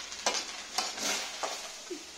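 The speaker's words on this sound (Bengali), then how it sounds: "কি রান্না হচ্ছে? Fried rice." Fried rice is stir-fried in a pan at home, with soft sizzling and a few distinct scraping strokes of a utensil spaced about half a second apart, fairly quiet and close.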